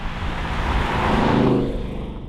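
A Ford Mustang Dark Horse drives on the road, its engine note swelling and easing as it passes close, with steady tyre and road roar throughout.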